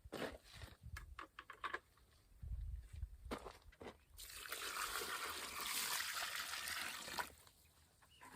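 Outdoors at a homestead, water is poured and mixed in a container for wall-building work: a few scuffing steps and light splashes, then a sustained rushing pour lasting several seconds before quieting.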